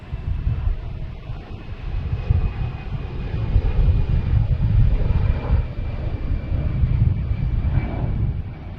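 An American Airlines Airbus A319 jet rumbles past at Boston Logan Airport as a steady, broad engine roar mixed with wind buffeting on the microphone, swelling slightly in the middle and holding throughout.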